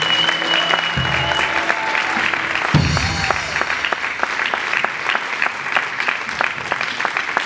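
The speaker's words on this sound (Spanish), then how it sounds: "un aplauso para él" A concert crowd at a show in Neuquén applauds a band member, steady clapping that builds and continues for several seconds, with a lingering musical tone fading underneath at the start.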